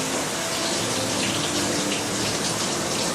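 Water pours steadily from a tap to rinse shampoo off a dog during a home bath, a constant close rushing gush with no breaks or talking.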